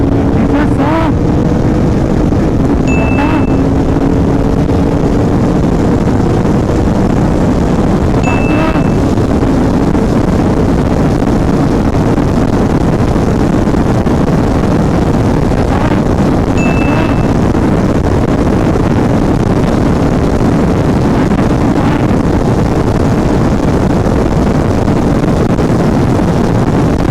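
A Royal Enfield Continental GT 650 motorcycle runs hard and loud for a long stretch, accelerating through the gears with a steady engine drone, wind roar and brief shift breaks.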